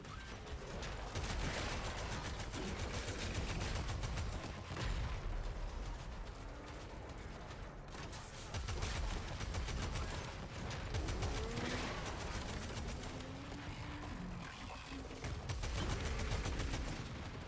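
Gunfire in Warframe pours out continuously as weapons shoot at a Thumper's legs: dense, rapid shots layered over a loud, steady roar with no breaks.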